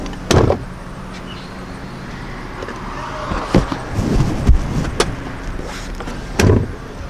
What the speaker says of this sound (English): Now to fold the third row, you have to grab this little handle, we'll fold the headrest and push forward.